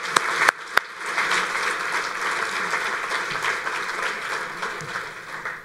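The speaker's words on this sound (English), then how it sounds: "Let's have another round of applause." Audience round of applause at a panel dialogue on nutrition, a steady wash of clapping that holds throughout, with a few sharp louder claps near the start.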